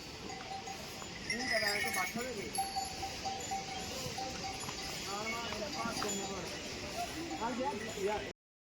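Horses at a pilgrimage horse stand on a Char Dham route, with hoof clops, bells and animal sounds at moderate distance, mixed with crowd chatter and voices throughout.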